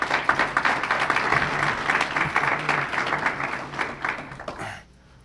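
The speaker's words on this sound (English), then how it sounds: "So if you could give them a round of applause, please." An audience at a lunchtime talk gives a round of steady applause for the panelists that lasts several seconds and then fades out.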